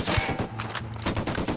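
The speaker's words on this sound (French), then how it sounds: "J'ouvre le feu." Rapid gunfire bursts in the game Ghost Recon Wildlands, loud and close, with several sharp repeated shots across a short, busy moment.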